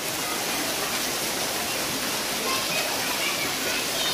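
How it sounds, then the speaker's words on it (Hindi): Heavy monsoon rain pours down steadily in a village garden flooded into a pond, a dense continuous hiss that stays loud and even throughout. "बारिश इतनी तेज़ हो रही है"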